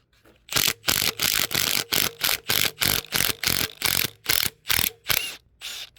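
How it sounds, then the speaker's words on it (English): A ratchet loosens the cylinder head bolts on a 1989 Chevy S10 engine, a close, loud series of about a dozen rapid clicking bursts separated by brief pauses. "So now I'm taking off the head studs,"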